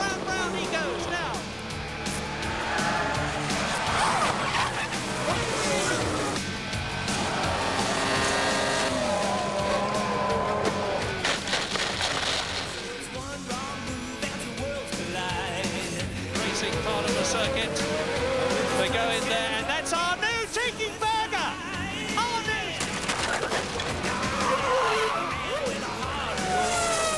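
Formula One car spinning on the track during a race broadcast, loud engine roar and tyre noise rising and falling through the whole stretch under excited commentary.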